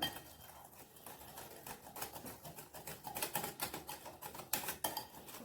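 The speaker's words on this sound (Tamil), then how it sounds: "இந்த பீட்டர் வச்சு இது பண்ணும். நல்லா அடித்து எடுக்கலாம்." Wheat cake batter being beaten in a bowl with a hand beater, quick irregular clinks and tapping of the beater against the bowl, fairly faint and close.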